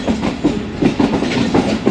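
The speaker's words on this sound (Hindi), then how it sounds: "अब प्लेटफॉर्म से थ्रू पास करने लगे, बहुत ही स्लो स्पीड में पास कर रहे हैं।" A train rolls slowly through Golra Sharif Junction station platform near Islamabad, wheels giving steady, loud clickety-clack beats over a constant rumble, close by.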